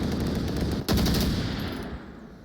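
Automatic gunfire from the VR shooter game Onward rattles in a dense, loud, continuous burst that sharpens and swells just before the halfway point, then slowly fades.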